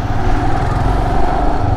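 A motorcycle engine drones steadily and loudly up close, a continuous low rumble with road noise as the bike rides along in Gangtok, Sikkim.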